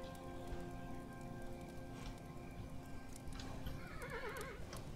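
A horse in the Kingdom New Land video game whinnies with a wavering neigh over steady clip-clop hoofbeats, set against a soft rain-like patter and a sustained musical tone, with no talk.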